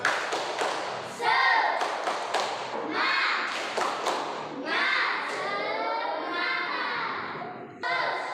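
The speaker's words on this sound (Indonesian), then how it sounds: "Tepuk semangat." Children chant in unison while clapping together in a rhythmic 'tepuk semangat' routine, a burst of sharp claps and thuds breaking between loud group voices.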